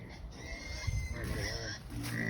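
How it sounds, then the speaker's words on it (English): Pigs on a backyard farm squeal and grunt in bursts at close range, loud and insistent, with a voice speaking briefly over the animal noise. "Pigs are getting loud and obnoxious."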